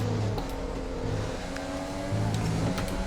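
A Red Bull Formula 1 car in F1 2020 at the Austrian circuit holds a steady, loud engine whine with shifting harmonic tones and brief gear-change dips as it drives hard.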